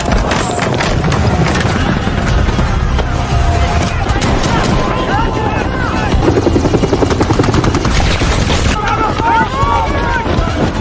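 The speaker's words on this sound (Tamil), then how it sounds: "மேல இருந்து வந்த ஹெலிகாப்டர் சத்தத்தை கேட்டு மக்கள் செதறி ஓடவே" A military helicopter's rotor throb drones loud and steady overhead across a chaotic battle scene, mixed with scattered bursts of gunfire, running and shouting voices.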